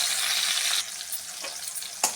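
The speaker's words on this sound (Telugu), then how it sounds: "ఈ రెండింటిని మంచిగా ఫ్రై అవ్వనివ్వాలి." Green chillies and star fruit sizzle in a frying pan, a loud steady hiss that drops to softer crackling, with a spatula clink near the end.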